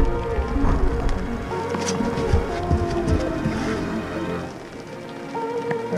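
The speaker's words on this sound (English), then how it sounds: "This rain's gonna stop here soon." Rain falls on a lake around a fishing boat during spring muskie trolling, a steady hiss of drops mixed with boat and water noise, continuous and fairly loud.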